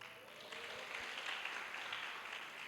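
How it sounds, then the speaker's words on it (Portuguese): A church congregation applauding, a faint, steady wash of clapping heard from a distance. "eu peço uma salva de palmas, não a ela, mas ao Senhor pela vida dela"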